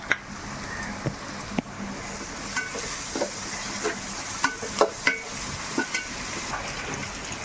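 Prawn masala with green chillies sautéing in a pan for prawn biriyani: a steady soft sizzle broken by a series of sharp spoon-stirring scrapes and clinks, close and fairly quiet.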